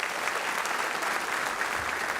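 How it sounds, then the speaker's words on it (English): An audience at a high school senior assembly applauds new class officers in dense, steady clapping that fills the room without letup. "A nice round of applause for our newest officers."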